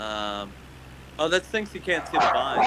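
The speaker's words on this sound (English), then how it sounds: "Oh, sorry. that's our dog." A pet dog gives a short whining yelp up close at the start, then a person speaks over faint background hum.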